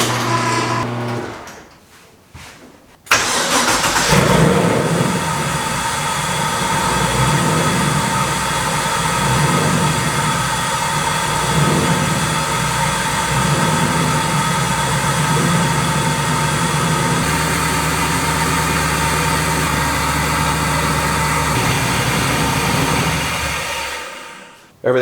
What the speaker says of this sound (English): I think we're ready for the first test fire.